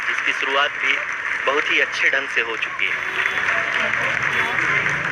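Applause and cheering fill a mission control room during the vertical descent phase of a lunar landing, a steady broad wash under someone speaking Hindi over it.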